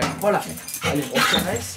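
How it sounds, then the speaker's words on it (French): An anxious dog whimpers and gives short, strained barks close by, its whines rising and falling in quick bursts while a person speaks softly over it. "C'est un chien, il est anxieux de ouf."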